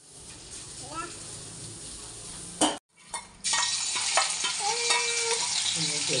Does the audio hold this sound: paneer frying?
yes